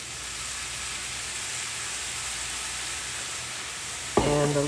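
Chicken and vegetable fajitas sizzle in a hot pan after a splash of Worcestershire sauce, giving a loud, steady crackling hiss throughout; a voice comes in briefly near the end.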